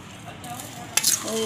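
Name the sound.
stirring spices in hot oil in a pan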